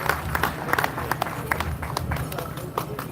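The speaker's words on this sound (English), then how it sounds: "How about a round of applause for Diane Sullivan, this year's Anishinaabe." A powwow crowd at the LCO Powwow in Wisconsin claps for an honoree, producing a dense, uneven patter of close hand claps that continues steadily for a few seconds.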